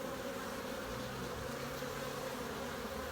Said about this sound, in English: the bees are still reasonably busy